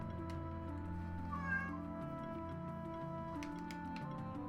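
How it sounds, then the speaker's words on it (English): A cat meows repeatedly from the other side of a closed door, muffled and moderately distant, layered over steady game music with a faint ticking rhythm. "Also, if you guys hear the cat in the background,"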